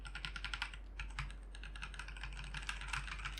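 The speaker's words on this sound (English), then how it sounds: "It's a linear switch. Sounds a lot more quiet because there's no click when you're pressing it down." Fingers type quickly on a Fühlen tenkeyless mechanical keyboard with Kailh linear switches, giving a dense, fairly quiet patter of clacks with no clicks, heard close and without talking.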